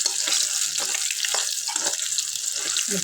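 Chillies fry on a gas stove, a bright, steady high hiss of hot oil with faint crackles, close and even in level, no one talking.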